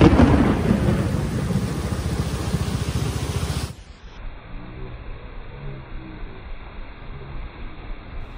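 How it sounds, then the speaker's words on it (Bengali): Heavy rain pours with a deep rumbling roar, loud and dense, then abruptly drops to a quieter, muffled patter of rain. "আবার জোরে বৃষ্টি"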